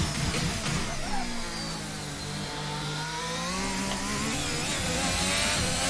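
High-pitched Formula 1 hybrid racing engine from a 2021 video game whining and shifting as it accelerates, a smooth continuous scream rising and falling in pitch with no talking.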